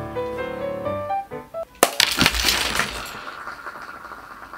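A prop Budweiser beer bottle with a little real beer inside smashed over a man's head. Tonal music notes lead into one sharp, loud crash, followed by brief scattering shatter and debris.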